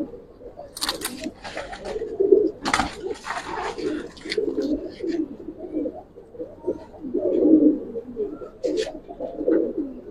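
Giribaz pigeons in a collection coo in repeated soft, throaty phrases at close range, overlapping one another with a few brief higher flutters and clicks, and no speech.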